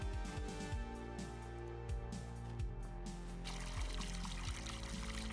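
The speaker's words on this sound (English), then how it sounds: "Let's water our garden." Water pours steadily onto a garden in Farming Simulator 25, a continuous splashing stream under low game background tones, with a brighter hiss rising partway through.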